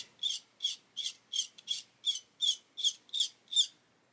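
Blade scraping plastic on an Airfix 1/24 Spitfire Mk.IXc model kit, nine or ten short, even rasping strokes in a steady rhythm, close and clear with no voices.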